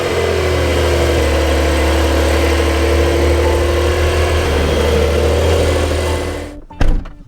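A car engine idles with a steady, low mechanical hum that holds constant for several seconds before cutting off abruptly, followed by a brief clunk near the end.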